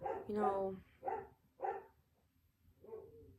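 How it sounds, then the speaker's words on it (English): A dog barks from downstairs in a home, three or four separate barks spaced about half a second apart, moderately loud but somewhat distant, with a person's voice briefly speaking over the first one. "that's my dog barking downstairs if you hear that."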